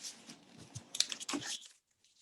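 Paper being folded into an origami cactus, a short run of crisp crinkles and creases close by with a couple of sharper snaps, ending in quiet.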